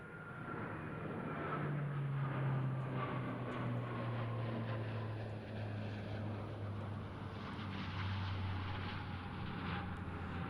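A C-27J Spartan twin-turboprop military transport flies a solo aerobatic display at RIAT 2024, its loud propeller drone holding steady and shifting slowly in pitch as it rolls overhead.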